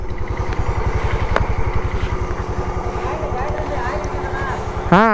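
A scooter engine sputters close by with a fast, rhythmic idle that thumps steadily the whole time, and a voice cuts in briefly at the end.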